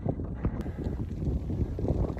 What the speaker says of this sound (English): I noticed that it's a lot more windy already